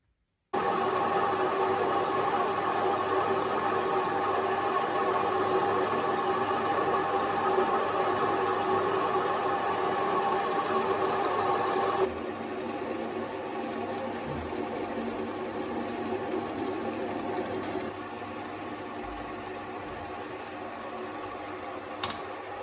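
A mini lathe cutting steel parts for chuck and tool post wrenches gives a steady, close mechanical whir with a constant hum that changes level partway through, and no voices.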